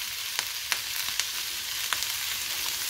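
Pasta fries in olive oil in a pan with a close, steady sizzle and crackle, and a few soft taps as it is stirred or tossed. Spaghetti aglio olio with broccolini and pecans is being cooked.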